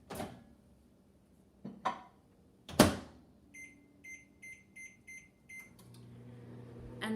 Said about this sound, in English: we're gonna put it back in the microwave for, I bet you can guess, another 30 seconds at half power.